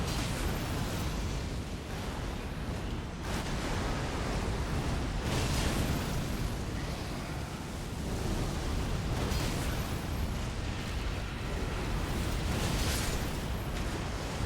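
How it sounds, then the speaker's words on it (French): An explosion in the video game Elden Ring: Shadow of the Erdtree, a loud, dense, sustained roar of booming noise that fills the whole stretch, pulsing and rumbling without pause. "l'explosion va avoir lieu quand même"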